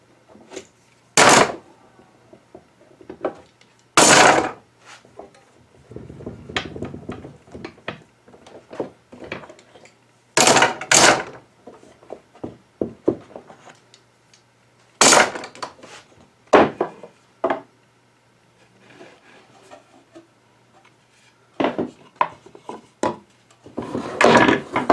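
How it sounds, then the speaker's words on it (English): Wooden clamps being fitted onto cherry spice boxes during glue-up, a run of sharp knocks and clatters spaced irregularly with some busier rattling bursts, close and fairly loud, with no talking. "I'm going to have a party just putting clamps on."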